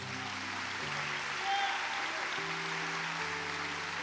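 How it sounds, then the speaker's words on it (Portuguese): A church congregation applauds the Lord during a Portuguese-language worship service, a steady wash of clapping held at an even level under sustained organ or keyboard chords, with a brief swell near the middle. "Você pode aplaudir o Senhor, queridos?"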